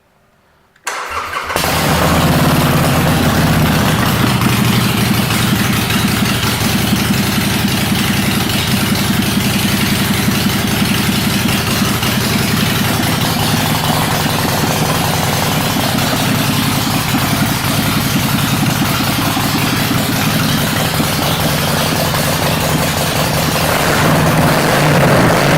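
A 2014 Harley-Davidson XL1200C Sportster Custom engine starts and settles into a loud, steady idle that runs close and continuous throughout.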